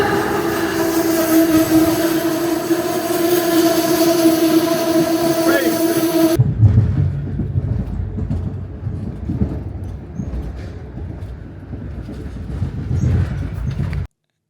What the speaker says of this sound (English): we just had to wait for our train to appear